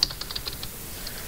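Rapid, light key clicks from typing on a computer keyboard while entering text in a design program, a quick burst of taps that thins into a few scattered strokes.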